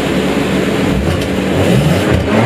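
An Audi RS5 with a sports exhaust rumbles steadily close by, a deep, continuous engine drone with slight swells in revs and no voices.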